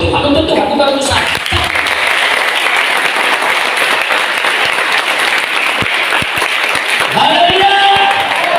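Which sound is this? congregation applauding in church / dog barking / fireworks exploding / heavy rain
congregation applauding in church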